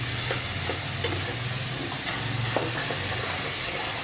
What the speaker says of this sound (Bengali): এখন এই ভাজা পেঁয়াজের মধ্যে আমি রসুন বাটা দিব